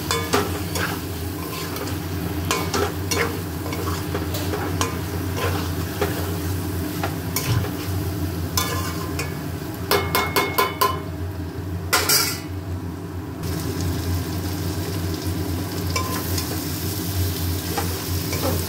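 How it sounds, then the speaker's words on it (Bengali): Mutton in its own released oil fries with a steady close sizzle while a spoon scrapes and stirs the pot in repeated strokes, with occasional metallic clinks and no talking. "ভালো করে কষা হয়ে গেছে, তেল ছেড়ে এসেছে মাটন থেকে।"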